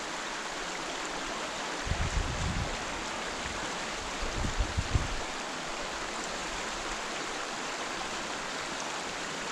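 A small, narrow brook trout creek rushes steadily nearby as a constant broadband wash, with a couple of low rumbling thumps partway through.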